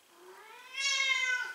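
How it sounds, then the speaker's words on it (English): A whiny pet cat lets out a single drawn-out meow, soft at first and then swelling louder before trailing off, close by in a quiet kitchen. "My whiny cat."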